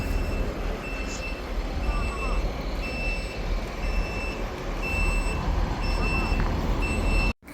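A bus on an Umrah journey from Unaizah to Taif in Saudi Arabia maneuvers with steady, evenly spaced reversing beeps over a constant loud engine rumble and background noise.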